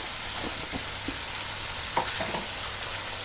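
Masala with chopped tomatoes and green chilies fries in a pan, a steady broadband sizzle with a few soft stirring scrapes and one sharper clink midway, close and moderately loud with no talking.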